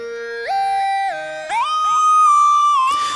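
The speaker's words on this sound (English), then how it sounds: "Today we are making a hard mellow lead and it sounds like this." A hard, mellow synth lead patch built in Vital plays a short gliding melody alone, stepping up through several sustained notes with smooth pitch slides, ending in a brief noisy burst.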